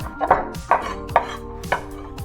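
Fresh herbs are chopped for a homemade deep dish Chicago pizza: four evenly spaced, crisp knife strikes on a cutting board, close and clear, with no talking.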